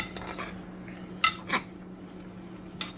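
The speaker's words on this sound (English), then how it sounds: "I'll stir it around a bit." A metal spoon stirs pork belly in a ridged pan over a steady background hum, with a few sharp metallic clinks and scrapes spaced irregularly.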